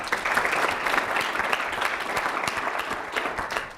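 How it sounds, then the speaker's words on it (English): A steady round of audience applause at a healthcare summit, honoring a student volunteer; dense, even clapping from a crowd, moderately distant and continuous throughout without voices on top. "So let's give a round of applause for Quinlan."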